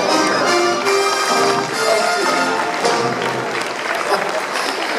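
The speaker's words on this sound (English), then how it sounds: "Let's hear a round of applause for Megan here." Audience applause at a special effects show at Universal Studios Hollywood, a steady wash of clapping from a crowd that holds for several seconds, with voices mixed in.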